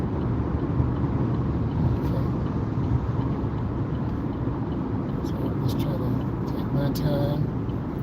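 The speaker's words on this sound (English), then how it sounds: "This car's flying." Car cruising on the I-94 highway, a steady broadband rush of road and wind noise with low rumble throughout, continuous and close, with faint bits of talk in the cabin.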